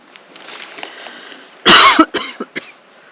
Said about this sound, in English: I've developed a cough.